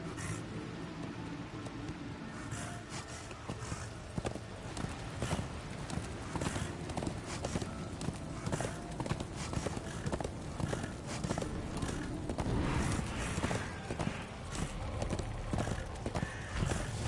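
Horse hooves clip-clopping in a video game, a steady rhythmic series of sharp hoof strikes at a trot, close and fairly loud over a constant background bed, with a brief whinny-like sound.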